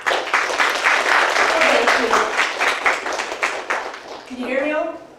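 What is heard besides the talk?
audience applause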